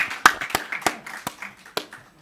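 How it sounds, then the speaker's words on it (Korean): Scattered hand claps at a church youth worship service, a handful of separate sharp claps spaced irregularly over about two seconds, close and fairly quiet. "네, 박수."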